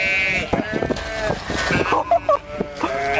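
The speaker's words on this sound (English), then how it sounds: "A herd of sheep had enough constant orders from a man and teamed up to charge at him repeatedly," A herd of sheep charging at a man, several bleats overlapping loudly and close, mixed with talk and commotion.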